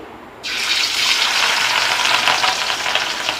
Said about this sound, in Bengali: ভেজে নেওয়ার জন্য দুটো মাছকে দিয়ে দিয়েছি